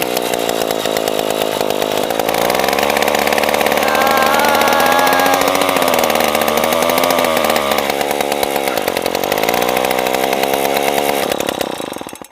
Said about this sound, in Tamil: நம்மளோட இன்ஜின் எந்த அளவுக்கு பவர்ஃபுல்லாக சுற்றுச்சு